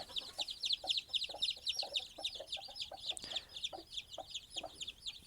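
A mother hen with her chicks in a concrete-ring nursery pen, producing steady rapid chick peeping with soft low clucks mixed in, close and continuous throughout.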